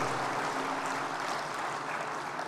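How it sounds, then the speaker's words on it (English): Warm applause from the crowd at an opening ceremony in Kigali, a full, steady patter of many hands clapping continuously at moderate distance. "a warm round of applause for Inayo Verana"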